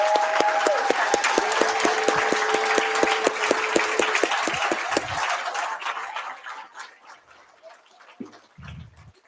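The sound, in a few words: applause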